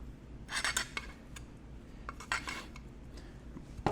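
A metal soil blocker is scraped across packed potting soil in a seed-starting block, giving short close rasping scrapes in two bursts with a few light metallic clinks and no talk.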